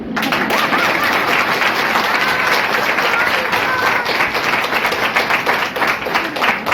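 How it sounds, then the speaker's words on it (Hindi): Audience applause, a steady dense wash of many hands clapping throughout, fairly loud and close, with no break. "ताली बजा सकते हो।"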